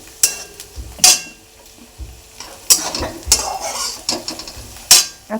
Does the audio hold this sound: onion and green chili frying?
yes